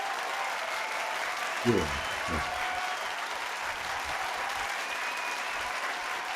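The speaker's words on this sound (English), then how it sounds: "They just don't want to quit clapping for you" An audience applauds at an annual song contest awards event, a steady wash of clapping that fills the room throughout, with a short spoken word from a voice near the start.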